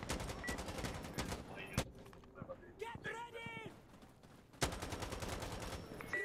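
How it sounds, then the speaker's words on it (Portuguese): Gunfire in the video game Insurgency: Sandstorm: dense, rapid bursts of shots fill the opening seconds, ease into a sparser lull with scattered clicks, then a loud volley resumes near the end. "pra que o cara fica atirando à toa, mano?"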